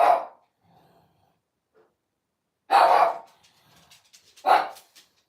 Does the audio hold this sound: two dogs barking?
yes